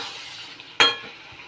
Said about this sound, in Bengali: এবার এটা দিয়ে একটু ভালো করে কষিয়ে নিই আলুটা দিয়ে